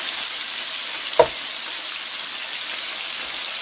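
Sausage frying in a pan gives a steady, even sizzle that runs throughout, with one brief sharp knock partway through and no talking.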